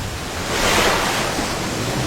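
Ocean waves with a strong pulling current make a continuous rushing roar that swells louder in the middle and then settles back, with no voices heard.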